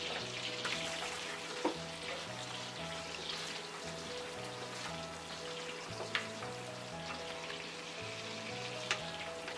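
Cardamom and cinnamon sizzling in hot oil for a wedding-style shahi roast: a steady, dense crackling fry heard close, with a few faint clicks and a low repeating hum beneath, no talking.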